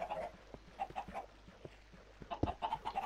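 A Minecraft chicken clucks in short, repeated bursts, quiet and close, with soft footsteps and game ambience between the clucks.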